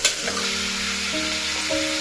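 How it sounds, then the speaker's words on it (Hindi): Potatoes sizzling and frying in a pan on a home stove, a steady close hiss with faint stirring, no voices. "इसमें मैं आलू ऐड कर देती हूँ। दोनों साथ के साथ अच्छी तरह से भुंजा जाएगा।"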